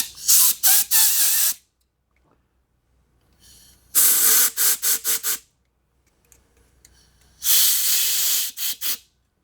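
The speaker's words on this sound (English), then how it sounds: "we're just gonna blow through each of our lines" Compressed air blasts through lines in three loud bursts of hissing spray, each a second or two long and ending in short sputtering puffs, with quiet gaps between them.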